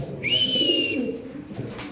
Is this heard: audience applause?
no